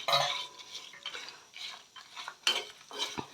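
Grated coconut and dried copra being stirred and lightly fried in a pan for sambar, with a spoon scraping and clinking against the metal in quick irregular strokes over a soft sizzle.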